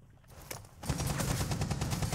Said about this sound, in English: they're shooting from the next floor down